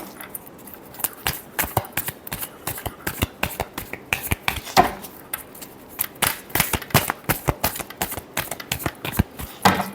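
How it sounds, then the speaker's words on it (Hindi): Tarot cards are riffled and shuffled in a rapid, uneven burst of crisp flicking snaps that runs steadily and up close, with no voices over it. "Last shuffle."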